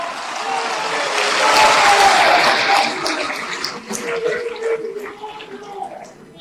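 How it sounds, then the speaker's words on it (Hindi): A standing crowd claps loudly and continuously at a BJP farmers' rally in Raisen, Madhya Pradesh. The dense, close applause swells, then thins slightly toward the end. "खड़े होकर जोरदार ताली बजाकर उनका अभिनंदन करें"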